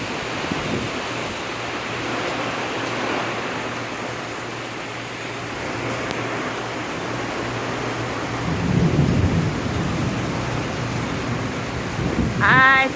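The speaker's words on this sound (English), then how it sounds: "can you hear the thunder?" Summer thunder rumbles low and long over steady heavy rain splashing on a patio in the Kentucky Appalachian Mountains, with a deeper roll building near the end; no one speaks.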